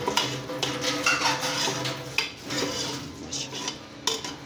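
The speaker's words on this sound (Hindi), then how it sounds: "अब इसके 3 अदर टमाटर ब्लेंड किए हैं वो डाल दिए और इसको अच्छी तरह भूनेंगे 3 से 4 मिनट" Blended tomatoes stirred and fried in a pan for a restaurant-style chicken chana, with a spoon scraping and clattering against the pan over a steady, close sizzle.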